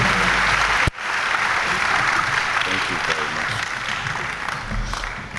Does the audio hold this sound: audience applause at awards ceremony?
yes